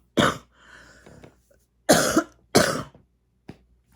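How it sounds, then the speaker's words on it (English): A person coughs alone, close and sharp: one harsh cough, a faint throaty rasp, then two strong coughs in quick succession and a small final one. "God, I need to cough all that shit out."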